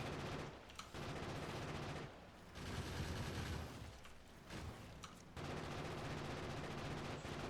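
Rapid automatic gunfire from gun turrets shooting enemies in Factorio Space Age, dense continuous bursts broken by brief pauses, loud and steady in the game mix.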